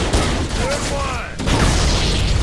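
Covering gunfire in the Halo video game, a dense continuous rattle of weapon fire with booming impacts, loud and close, with brief voices mixed in.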